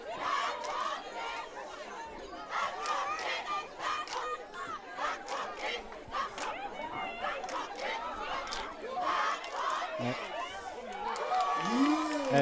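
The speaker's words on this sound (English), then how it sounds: "this cheerleader battle is still going on" Rival cheerleading squads from Penn Wood and Academy Park shout chants back and forth in a cheer battle at a high school football game, a steady roar of massed young voices and crowd chatter, with brief nearby talk over the top.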